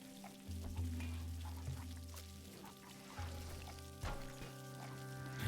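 Water poured out in short bursts, a quiet splashing pour that starts and stops twice over a low background hum and faint clatter.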